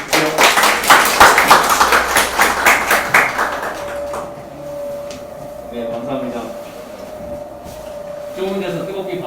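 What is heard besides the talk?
audience applause welcoming a speaker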